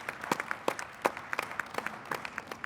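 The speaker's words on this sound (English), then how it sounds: "Give you a big round of applause for that." Scattered hand claps from an audience at a technology presentation: sparse, uneven claps rising and falling for a few seconds at low volume, with no voices over them.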